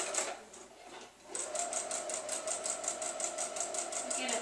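A sewing machine stitches a seam on a voile scarf, starting with a short burst, pausing a moment, then running steadily with an even rapid needle clatter, close and fairly quiet.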